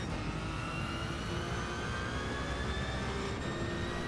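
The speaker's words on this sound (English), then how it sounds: "Listen to that gearbox whine," A race car in Gran Turismo 7 runs at high revs with a steady, high-pitched gearbox whine layered over the engine drone, continuous and loud with no talking.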